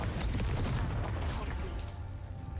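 A Confringo fire spell explodes in the Hogwarts Legacy video game, a loud booming blast with crackling, gunfire-like bursts and a rumbling low end that stays dense and sustained, with voices faintly in the mix.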